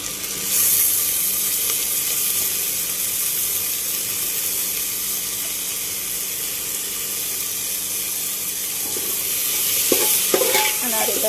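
Onion and tomato frying in oil, a loud continuous sizzle with steady spoon stirring and a few sharper scrapes and clinks toward the end, no voices.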